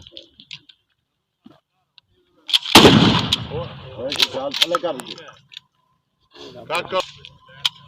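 Rifle shots at a firing practice range: one loud, sharp report near the start of the passage, then fainter cracks and clicks while an instructor speaks in short bursts over otherwise quiet surroundings.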